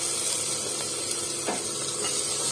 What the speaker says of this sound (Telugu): ఇప్పుడు టమాటోస్ కూడా వేసేద్దాం ఇందులో